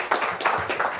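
A live audience at a medical talk claps to welcome a guest professor onto the stage, a brief burst of several rhythmic hand claps from nearby.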